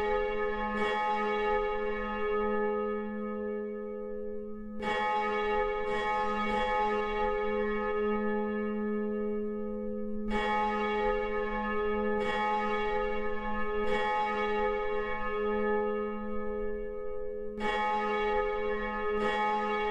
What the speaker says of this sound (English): bell number three now